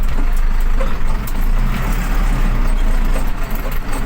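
MTZ 1025 tractor fitted with a MAN D0834 engine laboring uphill over a bumpy track, a loud continuous low diesel drone close by with faint rattling over it.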